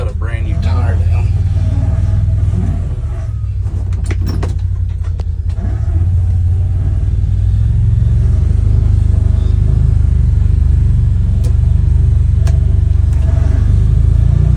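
A 2025 Can-Am Defender Lonestar Limited UTV on new Valor V14 wheels drives through a storm-damaged small town, its engine rumbling steadily and loudly throughout while someone talks over it.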